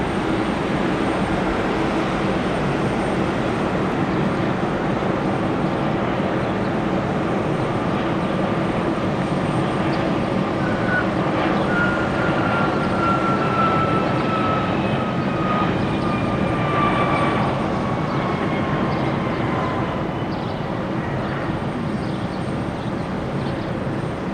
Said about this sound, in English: Got another executive jet, like a Citation.